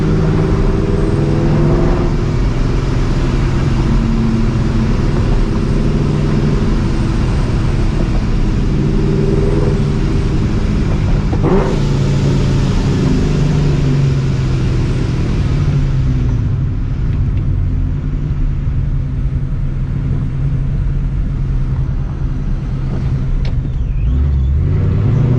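A loud supercharged New Edge Mustang GT engine revs hard while driving on the street, a dense roaring rumble that rises and falls through repeated throttle surges, close and continuous with no talking.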